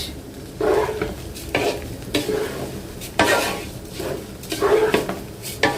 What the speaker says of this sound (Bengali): চুলায় হচ্ছে পোলাও বসাই দিছি